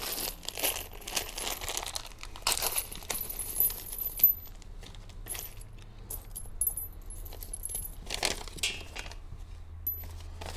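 Small metal screws and hardware clink, jangle and rattle in bursts while a folding bench and vice is put together, with scattered sharp ticks and crinkling over a quiet background, no talking.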